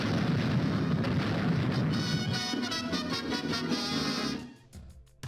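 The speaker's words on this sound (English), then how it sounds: "fireworks that go off and display the American flag high in the" Rumbling, crackling bursts of cartoon fireworks go off continuously, with popping and a dense boom, fading out at the end.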